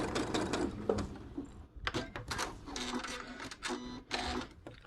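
Sewing machine stitching along the edge of a fabric face mask, running in close bursts of rapid needle chatter with brief pauses between passes, loud and near with no talk.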